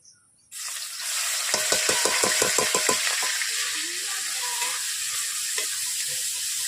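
Onion, ginger and garlic paste with chopped tomato hit a little hot oil in a pan, a burst of spattering crackles followed by a steady, loud sizzle as the mixture fries.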